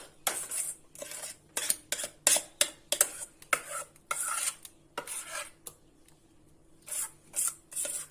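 Cream poured hot over a cheesecake base and smoothed with a utensil: a close run of quick scraping and tapping strokes against the dish, irregular and bursty, with short pauses between.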